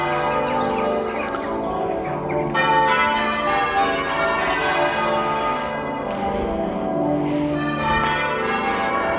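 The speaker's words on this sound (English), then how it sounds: "it is lovely to hear the bells, isn't it? They really are having a good old session of ringing." Church bells ring in Warminster in a long sustained peal, loud and continuous, with overlapping chimes and faint birdsong in the background.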